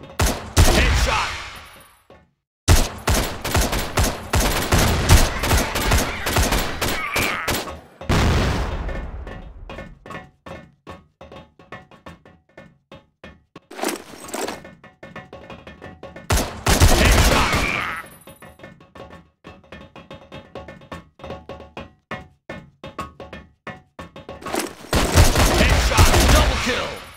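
An Ash-12.7 rifle fires in the CrossFire shooter game: loud, rapid bursts of gunfire with sharp single shots between them and short silent gaps.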